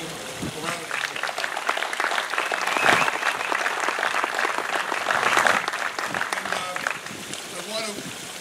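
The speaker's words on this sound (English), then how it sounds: "let's give him a round of applause" Steady applause from an audience at the grand opening of a high school bocce court, dense clapping that fills the whole stretch, swelling midway and easing toward the end.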